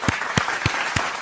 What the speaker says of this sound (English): Claps for Matty Scott.